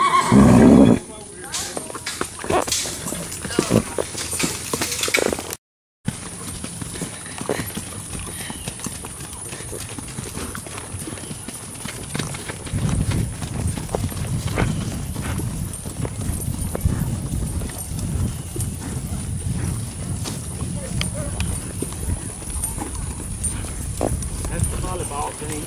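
Paso Fino and Tennessee Walking Horse hooves clip-clop steadily nearby on a trail ride while a horse whinnies at the start, with people talking over the sounds.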